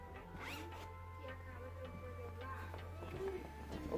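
A small hidden zipper on a bag is worked open in a few short, faint rasping pulls, close by and quiet in a room.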